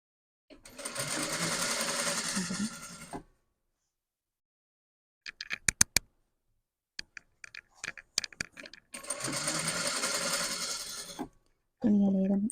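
A sewing machine stitching a blouse's lining, sleeve and back in two bursts of rapid, steady whirring about three seconds each, separated by quiet clicks and handling of fabric.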